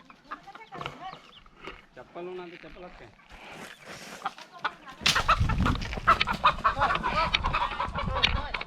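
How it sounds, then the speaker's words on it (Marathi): A village rooster clucking and squawking amid voices, growing loud and flustered in the second half as it breaks loose, flapping and calling near the listener. "आपला कोंबडा आता सुटून गेला"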